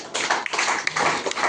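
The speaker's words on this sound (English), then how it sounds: "Give a big clap for her once again." An audience claps for an award recipient at a felicitation ceremony, a brief burst of dense, fairly close applause with a few sharper individual claps.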